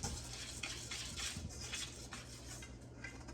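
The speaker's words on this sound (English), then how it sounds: "let's whisk all of that together really, really well" A whisk stirs flour and dry ingredients for Irish soda bread in a bowl, giving a quiet, continuous scraping and rhythmic clinking close by.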